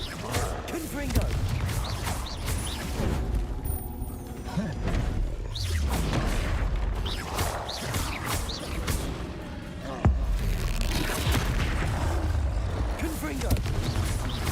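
Confringo blasting spells in the video game Hogwarts Legacy, a chaotic run of crashing, crackling impacts and mechanical clatter that hit repeatedly. A player shouts over the combat throughout.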